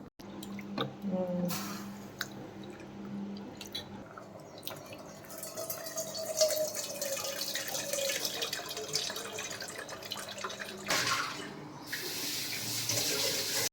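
Water splashes and trickles into a pot of softened cooked tomatoes for tomato rasam for several seconds, with pouring and dripping sounds close up and intermittent clatter.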